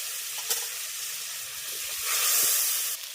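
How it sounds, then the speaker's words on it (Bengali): Masala with tomato frying in a pan, a steady loud sizzle and hiss with a few stirring scrapes, swelling louder toward the end, no voices. "সামান্য একটু পরিমাণে জল দিচ্ছি দিয়ে মশলাটাকে খুব ভালো করে কষিয়ে নেব"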